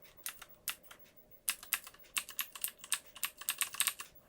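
Fingers type on a mechanical keyboard with Cherry MX switches, close by, in short bursts of crisp clacking keystrokes with brief pauses and a faster run near the end, and no one talking.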